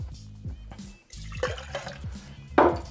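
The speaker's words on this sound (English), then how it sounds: "Give this another bit of a rinse." Glassware rinsed with water while mixing cocktails, giving short splashing and trickling bursts with drips and a louder gush near the end, with faint low background sound underneath.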